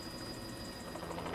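Steady whirring rotor and engine noise of a helicopter hovering above a waterfall on Mount St Helens, continuous and fairly loud, with no voices.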